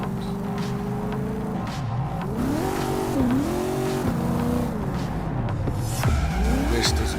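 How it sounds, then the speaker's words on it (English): A sports car in Cyberpunk 2077 driving through a game city, its engine note repeatedly revving up and dropping with gear changes, loud and continuous, with occasional sharp clatter. "Jackie's car is a super-powered sports car running on Chew-2, the super fuel of the future"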